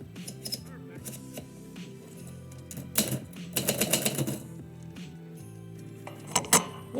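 Keys striking paper on a typewriter while a poem is typed: irregular clacks and short rapid bursts with metallic clinks, over a soft background, and one louder cluster near the middle.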